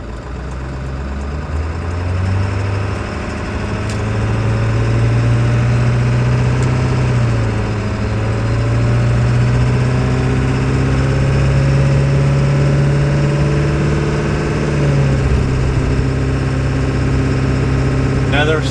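Ford 7.3 Powerstroke diesel truck engine pulling under acceleration, a loud steady drone with rising and falling pitch as the transmission shifts gears, heard from inside the cab with someone talking over it.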